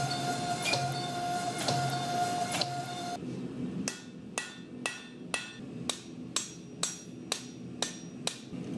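A hand hammer strikes a Damascus steel knife blade during forging, sharp metallic blows ringing out in a steady, evenly spaced rhythm, close and loud, after a few slower strikes at the start.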